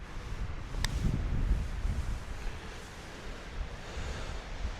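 Gusting wind sweeps across an open golf course, a broad rushing roar against the microphone that swells and eases, with a faint click partway through and no talk.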